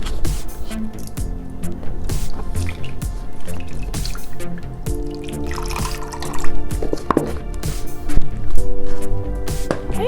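Liquid egg whites pouring from a large 32-ounce container, a thick, continuous glugging and dripping stream with wet splashes building toward the end, close by and without talk.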